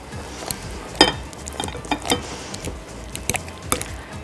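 Avocados being mashed for guacamole: a series of soft, wet squishes and dull thumps against a bowl, coming in an irregular rhythm and heard up close and alone.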